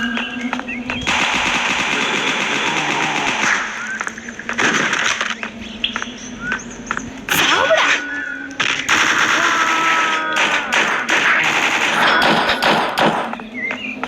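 Rapid bursts of automatic gunfire from a gun in a video game, loud and close, rattling in long sustained volleys with brief gaps, some thuds mixed in and a voice talking underneath.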